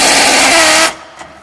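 A power tool on a Torx 40 bolt that holds the axle to the frame of a Jeep Wrangler Rubicon. It whirs loud and close for nearly a second, then cuts off, leaving faint clicks.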